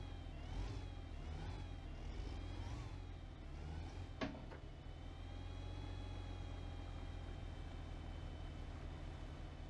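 A Ford semi truck engine idles and revs in the video game American Wilds. A steady, faint mechanical drone swells in a few rising and falling pitch sweeps, then settles into an even hum, with a brief click midway and no speech.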